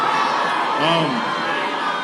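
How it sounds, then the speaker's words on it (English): A political rally crowd in Cleveland cheers and whoops continuously in a loud, sustained roar, with shouting voices rising briefly in the middle. "thank you for the applause"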